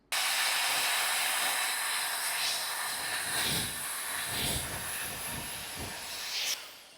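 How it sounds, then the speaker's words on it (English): A hair dryer blows steadily close by onto the base of a small bio base hair topper, a loud broadband whoosh that wavers slightly as it moves, then cuts off near the end. "I will use this dryer to make the base flat."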